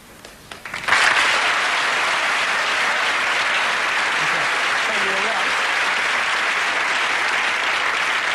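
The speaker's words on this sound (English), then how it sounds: "Some applause." Studio audience applause from a Saturday evening television show, bursting in abruptly after a second and holding as a dense, loud, continuous roar of clapping until the end.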